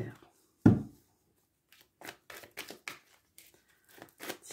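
Tarot cards being shuffled for a reading, heard as a sharp thump followed by bursts of quick papery riffling that come and go at close range, with no talk over them.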